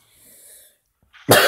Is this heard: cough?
yes